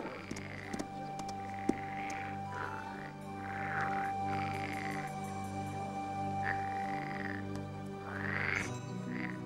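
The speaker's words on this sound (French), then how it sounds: "Ne me dis pas que tu as peur d'une grenouille." A frog croaks in a steady rhythmic run of raspy pulses, close and fairly loud, with a few sharp clicks early on and no speech.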